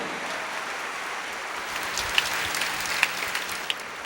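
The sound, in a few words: congregation applause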